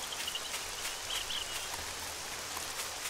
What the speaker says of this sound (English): Hopefully the rain will stop and we won't freeze to death